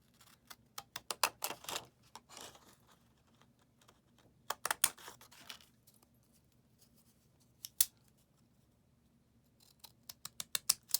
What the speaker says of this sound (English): Use the right scissors.